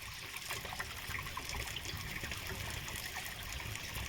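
Rainwater trickling and draining fast from a terrace outlet with its mesh removed, in a rooftop garden after rain: a steady, soft splashing hiss with faint gurgles, continuous and fairly quiet, no talk.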